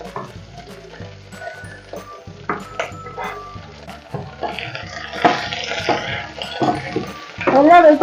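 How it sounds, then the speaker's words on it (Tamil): Chopped vegetables stirred in a pot for a vegetarian soup, with close sizzling, scraping and clattering of the spoon against the pot, growing busier and louder toward the end. "எல்லா வெஜிடபிளையும் போட்டுட்டு இப்படி மிக்ஸ் பண்ணி சொல்லுங்க"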